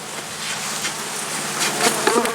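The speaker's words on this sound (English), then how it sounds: "but look at all those bees" Dense, continuous buzzing of many honeybees close by as they are brushed from a hive during a split, steady throughout with slight swells.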